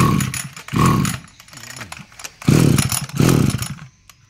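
A Chinese chainsaw engine runs after a pull start. It is loud and close, revving hard in four rough surges and dropping to a sputtering idle between them.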